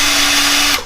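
Under a second of a power drill boring through the metal floor of a Kazama JZX100 with a 2JZ engine, a loud, close, steady whine that cuts off abruptly just as the bit breaks.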